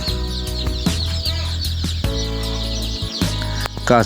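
Chickens on a poultry farm cluck and squawk continuously and loudly close by, several birds calling over one another against a steady low hum.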